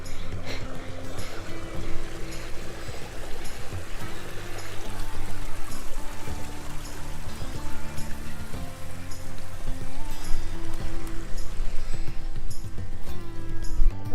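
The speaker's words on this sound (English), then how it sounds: "And yet another creek crossing." Creek water rushes and splashes continuously nearby, a loud, steady broadband flow with no talking.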